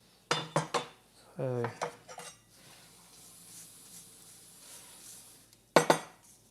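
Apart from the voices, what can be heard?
knife being handled to cut olive oil castile soap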